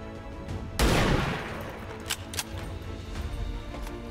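Gunfire in the turn-based strategy game XCOM 2: a single loud shot bursts out with a rough, crackling tail, followed by a couple of fainter clicks and knocks under low background noise.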